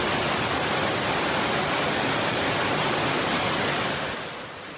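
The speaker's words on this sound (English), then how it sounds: "the rivers overflowed their banks and streams of water rushed through the" Floodwater rushes through city streets in China after rivers overflowed their banks, a dense, steady roar of moving water that stays loud throughout and eases slightly near the end.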